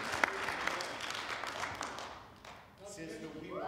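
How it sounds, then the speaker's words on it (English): A church audience gives a round of applause that starts fairly full, thins and fades over a few seconds, then a voice rises as the clapping dies away. "let's give a round of applause for Linda Locarnini"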